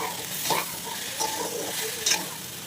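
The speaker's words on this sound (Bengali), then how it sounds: "বেশ গুড় আর নারকেল দিয়ে নাড়াচাড়া করব।" Jaggery and coconut stirred in a pan with cashews, raisins, almonds and cardamom, a steady close scraping and gentle sizzle with a few stronger strokes, no talk.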